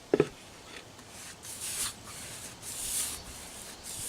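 Finnish tar mixed with linseed oil being rubbed onto a surface, giving soft repeated swishing strokes after a brief sharp knock at the start, quiet and close with no talking.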